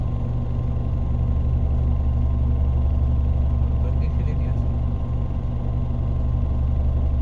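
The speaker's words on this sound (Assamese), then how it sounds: "এতিয়া লদাৰেৰে ঠেলিব ইয়াক" A loader pushing a stuck truck up a road: a steady, loud low engine rumble holds throughout with no break, close and continuous, though the push itself is not separately distinct.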